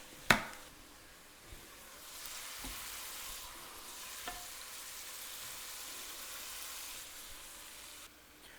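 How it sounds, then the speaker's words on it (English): Beef burgers cook on a griddle with a soft, steady sizzle after a sharp clank at the start, a few faint knocks scattered through, and no voices. "I'm going to let that happen while the burgers are cooking"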